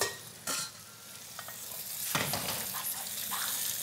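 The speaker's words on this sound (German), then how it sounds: "Die Muscheln kurz anbraten." Mussels hit a hot pan and sizzle steadily, with scraping stirs and short bursts of louder frying, close and clear without talk.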